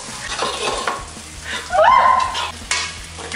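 Fried rice with egg sizzles and scrapes in a pan, with steady stirring and clattering and a brief squeaky scrape in the middle, close and moderately loud.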